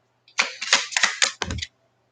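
A rapid run of crisp, papery riffling and clattering as cards are shuffled close by, in quick bursts lasting about a second and a half, no talking.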